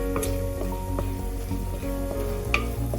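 Small shallots fry in oil for a Kerala kudampuli fish curry while being stirred toward golden brown: a steady near sizzle with light stirring scrapes, a faint tune in the background and no speech.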